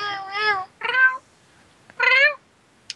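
A pet cat meows close by: three short, tonal meows in quick succession, then a faint chirp at the end, with quiet between calls.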